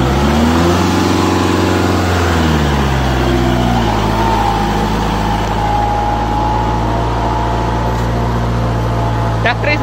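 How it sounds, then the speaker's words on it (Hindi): Kubota MU4501 4WD tractor engine held at full throttle in gear with the brakes applied, a loud, steady diesel drone whose pitch climbs and then settles at high revs, close by, with no talk. "ट्रैक्टर इस बार भी रेस पकड़ ली ट्रैक्टर ने पूरी"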